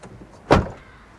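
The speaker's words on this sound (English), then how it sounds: "that is what you would expect from the door shut of a Rover R8" A single solid door shut on a Rover R8 car, one sharp, close thump with a brief low resonance that fades quickly into quiet.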